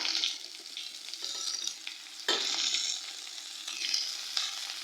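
Chunks of unpeeled potato and pumpkin fry in hot oil in a pan, giving a loud, continuous sizzle that surges as the pieces are stirred and turned; no talking.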